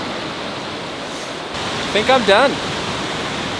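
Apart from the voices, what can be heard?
waterfall on a river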